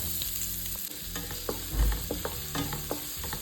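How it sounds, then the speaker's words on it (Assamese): Sliced onions frying in oil with bay leaf and dried chilli in a nonstick pan, a bright steady sizzle punctuated by close, rhythmic spatula scrapes and clatter against the pan. "তেলত তেজপাত আৰু শুকান জলকীয়া দি পিঁয়াজখিনি ভাজি ল'লোঁ।"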